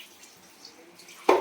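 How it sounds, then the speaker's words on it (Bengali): Hilsa fish rinsed lightly in water: faint, quiet trickling and dripping, then a brief, louder splash of water near the end. "ইলিশ মাছ তো হালকা করে ধুতে হবে, বেশি ধুইলে হবে না। এখন আমি হালকা করে ধুয়ে রাখছি"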